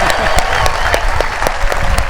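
An audience at a US Open pickleball press conference gives Andre Agassi a birthday round of applause: a brief burst of dense, close clapping with a few voices mixed in.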